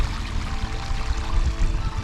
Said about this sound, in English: It's just amazing how much water is running off this mountain.